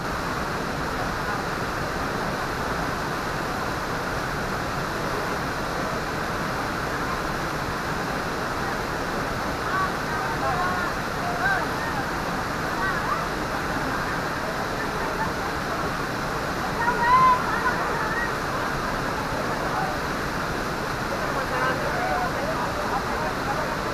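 Steady, rushing roar of water pouring down Daranak Falls in Tanay, Rizal, a broad, continuous wash of sound that holds at an even level throughout, with possible faint voices mixed into the din.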